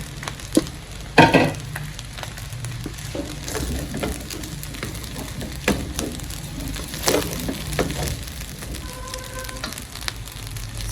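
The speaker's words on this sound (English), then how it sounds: "Now it's time to go in with the last thing, which is my chopped green pepper, spring onions." Chopped green pepper and spring onions hit a pan of fried rice with gizzard, giving a steady broadband sizzle with scattered clatters and scrapes of stirring throughout, fairly close and without talk.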